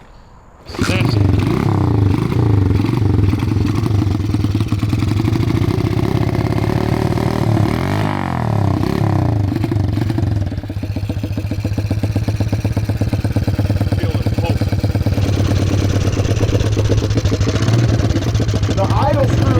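Junkyard-built 110cc shifter mini bike engine starts and runs loud and close, a steady idle with brief revs and rattling clatter, while people talk over it.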